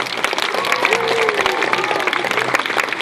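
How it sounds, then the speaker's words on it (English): A round of applause from the audience at a tiger and panther show, steady clapping throughout with a voice talking faintly over it. "let's go ahead and give Krill another great round of applause"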